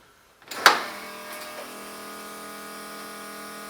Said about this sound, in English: I should also hear the fuel pump come on.